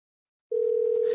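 A steady telephone dial tone, one unbroken pitch that starts abruptly after a moment of silence and holds loud and clear on its own.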